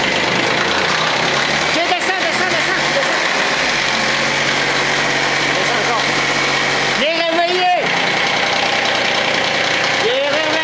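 Kioti CS2220 compact tractor diesel engine idling after a cold start at -22 °C, a steady mid-pitched rumble with a brief revving surge midway, while someone speaks over it.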